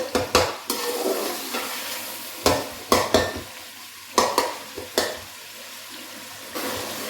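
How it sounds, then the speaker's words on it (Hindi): Spiced masala for Karachi street-style biryani fries steadily in a pan, broken by repeated sharp scrapes and clatters of a spoon stirring and pressing it, several bursts close together then a few spaced out over a continuous sizzle. "मसाले को हमने अच्छी तरह से 3 से 4 मिनट भून लिया।"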